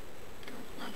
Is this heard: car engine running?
no